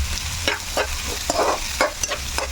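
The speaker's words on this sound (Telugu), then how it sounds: "ఇప్పుడు ఫ్రైలోకి first onion onions green chilli వేసుకున్నాను" Onions and green chillies fry in a pan, a loud close sizzle with stirring scrapes recurring about every half second.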